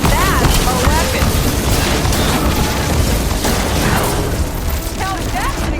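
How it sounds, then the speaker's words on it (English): A loud explosion in the Horizon Forbidden West video game, a dense roaring blast that fills the whole stretch with rumbling noise, with faint voices mixed in. "Now that's an explosion!"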